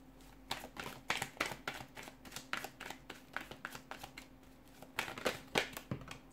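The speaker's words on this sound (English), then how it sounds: "give the cards a shuffle" A deck of cards being shuffled close up, a rapid run of crisp riffling flutters in quick bursts with brief pauses, no voices.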